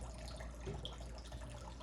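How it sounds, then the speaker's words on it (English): Liquid pours steadily from a container and trickles back along its side, a continuous close splashing with a faint splat partway through and no talking. "if you go to pour it, you can see it kind of pours backwards"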